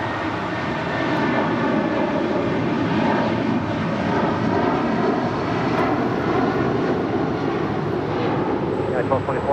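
A United Airlines jet airliner departs Los Angeles International Airport, its engines a steady, broad roar holding loud and continuous throughout, with faint tonal whine above the rumble.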